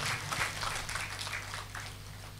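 A congregation claps for the priests at a thanksgiving Mass in church, a moderate wash of applause over a low hum.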